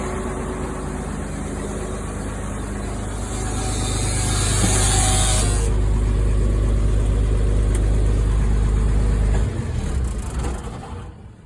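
An old farm truck with no power steering rumbles at a steady idle, revs up louder for several seconds, then drops back and fades out, close and alone.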